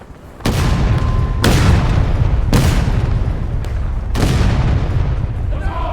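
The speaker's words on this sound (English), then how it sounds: "ripple fire, right to left, no interval," Artillery ripple fire in a video game: four heavy booming blasts land in sequence about a second apart, loud and close, each one rolling into a long rumbling decay that overlaps the next.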